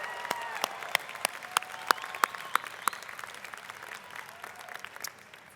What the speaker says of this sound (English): let's hear a big round of applause for that